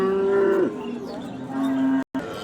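A dairy cow at a cattle market near a border area gives a loud, close, drawn-out moo that bends downward, followed by a shorter second low call amid faint background noise.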